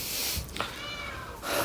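A cat meows, a single drawn-out call near the start followed by a softer cry toward the end, fairly close and on its own without talk.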